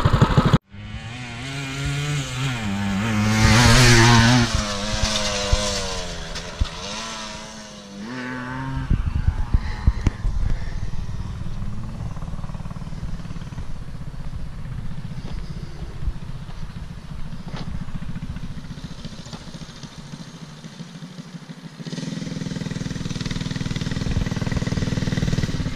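A dirt bike motorcycle revving and riding around a track, engine whine rising and falling in pitch as it passes, continuous and fairly loud throughout.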